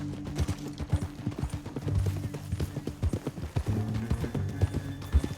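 Horse hooves clip-clopping in Red Dead Redemption 2, a steady, moderately close rhythm of hoof strikes with faint background ambience throughout.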